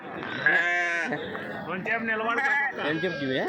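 Sheep and lambs bleat repeatedly at a weekly village livestock market in Kothacheruvu, their wavering, overlapping cries loud and close amid the busy crowd, with people talking throughout.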